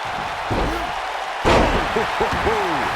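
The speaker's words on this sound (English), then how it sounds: "What an incredible moonsault." A wrestler's moonsault slam in the WWE 2K19 video game lands as one heavy, sharp impact midway through, set against a busy arena backdrop with voices sounding throughout.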